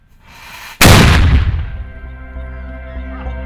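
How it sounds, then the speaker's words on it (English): A historic artillery cannon at the Bellerive Bluff battery fires a single loud, close blast that booms and then rolls away in a long fading echo. "we fire this cannon every year annually on the anniversary of the firing of the first shot from the Bellerive Bluff battery"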